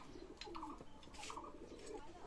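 A pair of Teddy pigeons of Oman bloodline, cooing softly in a loft. Several low, faint coos come in short overlapping bursts with some light rustling.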